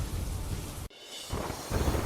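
Heavy monsoon rain pours in Gujarat, a dense steady hiss with deep rumbling thunder underneath, broken by a brief abrupt gap before the downpour resumes.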